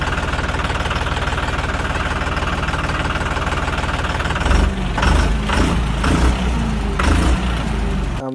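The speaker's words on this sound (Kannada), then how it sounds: "ನಮ್ಮ ದೋಸ್ತ್ ನೋಡ್ರಿ ಗಾಡಿ ಹಾಕೋತಿ ಹೊಂಟಿ ಬಿಟ್ಟಿವ್ರಿ" Vehicle engine idling loud and close with a steady, rapid knocking throb, then a few irregular heavier thumps and bursts toward the end; no talk.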